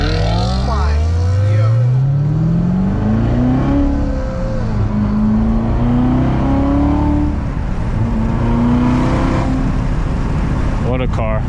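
A manual Corvette C7 Z06 launches at night and accelerates hard, its engine note climbing loudly through several rising gear pulls with brief drops at shifts, heard from inside the car.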